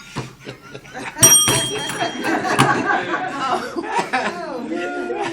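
A bell is struck once, ringing with a bright sustained tone at a community meeting, while people talk and laugh over and around it.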